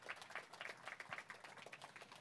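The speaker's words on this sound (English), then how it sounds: "let's give a nice round of applause" Audience applause at an event honoring a former college football tight end, a brief, faint patter of clapping from a modest crowd, fairly distant and sparse.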